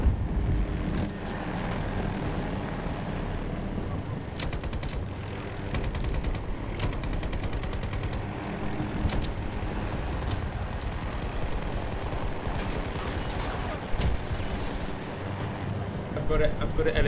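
A light machine gun fires in Battlefield 2042, with rapid bursts of shots standing out in several clusters over a constant loud battlefield rumble of wind and engines.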